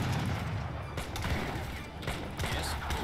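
Cannon and musket fire in Age of Empires III battle, a dense, continuous roar of overlapping shots and booms with no pauses.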